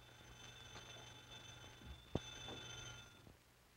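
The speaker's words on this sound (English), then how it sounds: "The phone. That's strange. I wonder who could be calling at such an hour." An old telephone bell ringing in a 1939 film scene, a trilling ring behind a faint hiss, followed by a thump and a couple of soft knocks, with no voices.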